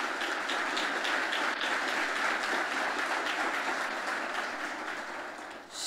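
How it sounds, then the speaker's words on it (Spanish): A church congregation applauding during a sermon, a continuous, fairly loud wash of many hands clapping that holds steady and tapers slightly at the end. "amén, aplaudí al Señor."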